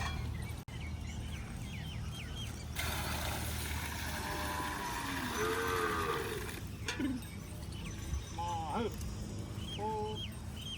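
A Kankrej cow in Banaskantha moos during milking, with several drawn-out lows rising and falling over steady farmyard background noise, and people can be heard talking nearby.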